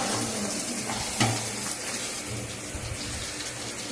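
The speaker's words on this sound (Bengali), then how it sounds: "মাংসটা আমার প্রায় কষানো হয়ে আসছে, এবার আমি জল দিয়ে দেবো।" Water splashes and hisses into a pan of sizzling chicken curry made with desi chicken, a steady pouring wash over the frying sizzle, fairly close and loud throughout.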